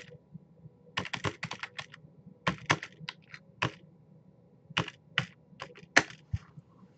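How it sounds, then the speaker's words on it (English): Keys clack on a computer keyboard in irregular bursts of quick, close, crisp taps separated by short pauses, with no talking. "We type that in."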